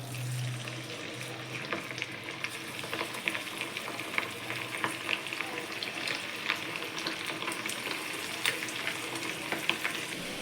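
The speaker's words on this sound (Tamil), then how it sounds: "நான் ஒரு கடாய் வச்சு ஆயில் ஊற்றிட்டேன். இப்போ ஒன்று இதில் போட்டுக்கலாம்." Marinated chicken deep frying in oil in a kadai, a soft continuous bubbling sizzle with small crackles and pops at moderate distance, steady throughout with no voices.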